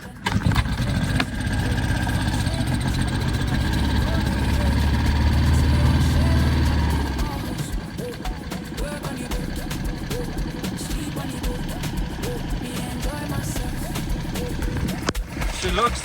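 An outboard boat motor starts and runs close by, loud and steady for several seconds before its pitch drops and it settles into a rougher, quieter idle.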